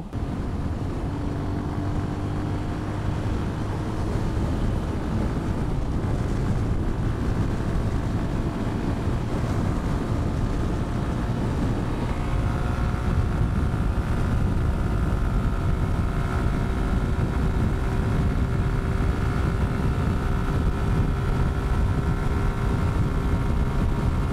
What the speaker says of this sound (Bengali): আজকে উইন্ড অনেক বেশি